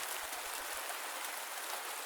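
Soft, steady rain hiss with a faint low patter, continuous and even, heard alone with no voices.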